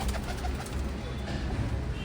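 Pigeons coo softly in low, rolling murmurs against a constant broadband background noise, brief and muffled.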